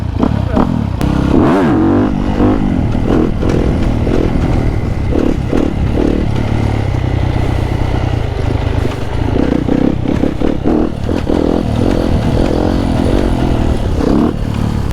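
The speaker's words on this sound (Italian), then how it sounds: "Questa è la mia nuova moto Duke 790." Close, continuous motorcycle engine from a KTM Duke 790, rumbling and revving in uneven bursts under steady chatter, with some clattering noise mixed in.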